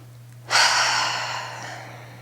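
A single deep, audible breath from a pregnant woman at 19 weeks during a pelvic floor exercise, taken in sharply and then let out slowly in a long fading exhale, close and clear over a low steady hum.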